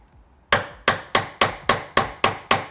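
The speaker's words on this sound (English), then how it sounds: "we've just got to do this final chop down to the line now" A wooden mallet strikes a chisel eight times in steady succession, chopping straight down into wood to cut a drawer runner joint. Each blow is sharp and close with a quick decay, and no one speaks.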